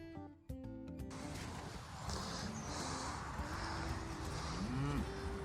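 Cattle low and moo from a distance over a constant outdoor rumble, a few drawn-out calls rising and falling with no talking.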